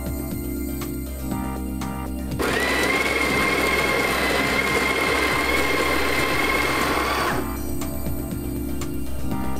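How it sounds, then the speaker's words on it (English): A coffee grinder grinds espresso beans in one loud, close, whirring burst of about five seconds, with a steady motor whine, set between quieter stretches of background hum. "We're just going to grind some coffee now."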